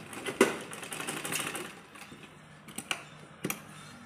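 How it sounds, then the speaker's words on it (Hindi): A sewing machine stitches elastic onto a fabric strip for a baby girl's crop top, with a steady whirring run followed by a few short, separate mechanical clicks. "अब हम इलास्टिक को इस पट्टी के बीच में रखकर इस तरह से होल्ड करके यहाँ पर सिलाई कर लेंगे।"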